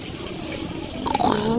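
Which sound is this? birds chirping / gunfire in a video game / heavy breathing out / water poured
water poured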